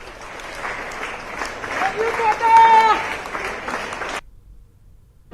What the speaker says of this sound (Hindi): कोचिंग संस्थान के डायरेक्टर ने ताली बजाकर छात्रों को विदा किया